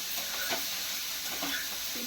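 Mixed vegetable curry tempering with mint leaves sizzling and being stirred in a hot pan, a continuous close frying hiss with scraping stir strokes, no talking.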